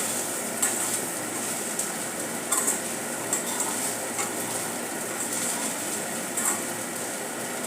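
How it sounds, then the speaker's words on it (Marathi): Sabudana khichdi with crushed peanuts being stirred in a pan over a low flame, a continuous dense sizzle and scraping with occasional sharper clicks of the spoon, close and steady without speech. "आपल्याला आता लो फ्लेमच ठेवायची आहे आणि हे सर्व मिक्स करून घेऊया"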